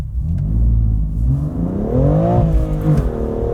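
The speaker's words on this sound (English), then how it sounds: "I'm gonna do a slightly less ridiculous launch this time" A 2020 BMW M2 CS launches hard, its engine roaring loud and close as revs climb steadily toward 7,500 RPM, then ease off near the end.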